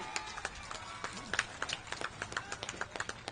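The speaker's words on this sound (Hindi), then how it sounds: "माननीय विजय चौधरी जी को और श्री संजय झा जी को जोरदार ताली बजाइए" At an election rally, a crowd's applause rattles on as scattered, fairly faint claps in an irregular patter, with a voice over a loudspeaker faintly underneath.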